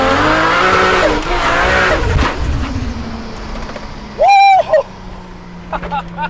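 A straight-piped, big-turbo MK4 Supra engine roars loud and close under load in second gear, with a rising turbo whistle and a short squeal partway through.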